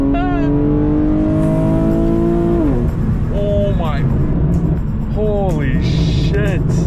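A tuned car's exhaust burbles and pops as it accelerates and shifts down, engine note climbing and dropping in several pulls, heard from inside the car with excited talk over the rumble.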